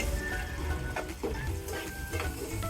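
Chopped onions fry with bay leaves and salt in a pan for a Bengali prawn curry, giving a steady loud sizzle broken by clinking and scraping as they are stirred.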